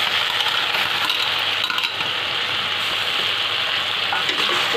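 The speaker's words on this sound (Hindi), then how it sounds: "अब हम डालेंगे इसमें मैकरोनी।" Macaroni tumbles into a hot pan, a loud dense rattle and sizzle of pieces landing and frying that runs steadily throughout, with no talking.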